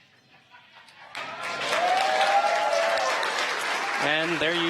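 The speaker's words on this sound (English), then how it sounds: "you can probably hear the cheering behind me." A crowd cheers and applauds after a Falcon 9 first stage landing, a broad swell of clapping and shouting that rises and holds, with a voice speaking over it near the end.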